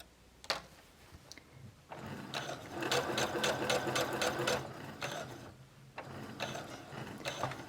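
Sewing machine stitching straight seams in felt, quiet pauses broken by a run of rapid, rhythmic mechanical clacking, then a short stop and another burst of stitching close by.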